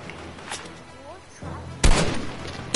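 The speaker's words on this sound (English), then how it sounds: "Oh no, I'm getting shot at." Gunfire aimed at the player in the Fortnite video game, a few sharp cracks early on, then a louder, denser burst of shots near the end, with speech in the background.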